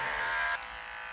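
Electric clippers shaving a guinea pig's fur near its scent gland, a close, steady buzzing hum that drops in intensity partway through the brief moment.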